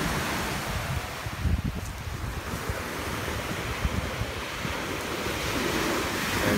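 Sea waves wash onto the shore in a continuous loud roar, with gusts of wind buffeting the microphone and no talking.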